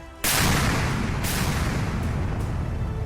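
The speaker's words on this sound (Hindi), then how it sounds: "ये धमाके, ये बम गोले, मिसाइल्स और तोप से होने वाले ये हमले" Heavy artillery and shelling explosions in a war zone: a sudden loud boom followed by sustained dense rumbling blasts that stay close and powerful with no let-up.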